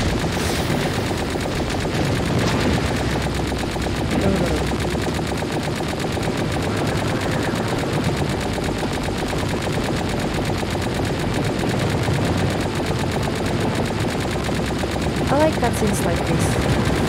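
Rapid automatic gunfire in the video game Tower of Fantasy, a loud dense rattle running nearly nonstop, with a voice speaking over it.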